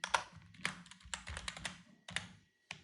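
Single keypresses on a computer keyboard during editing work, a few sharp soft taps spaced out with brief pauses, close and fairly quiet.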